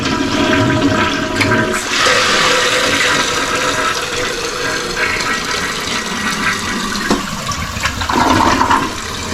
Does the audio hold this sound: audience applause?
no